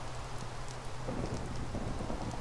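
Steady rain patters continuously with a low rumble of thunder beneath it in Minecraft, fairly quiet and even throughout.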